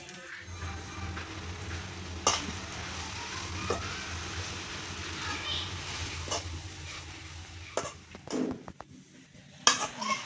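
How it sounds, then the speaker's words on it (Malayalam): Moringa leaves sautéed with mustard seeds in a pan, giving a low steady sizzle with scattered clinks and scrapes of a utensil against the pan, sharper strikes near the end. "വഴറ്റി കൊടുക്കാം"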